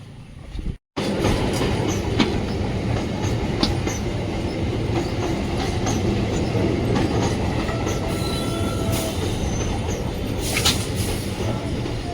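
A train rumbles past loudly and steadily on the rails, with rhythmic clatter of wheels and occasional metallic squeals, close by throughout after a brief cut.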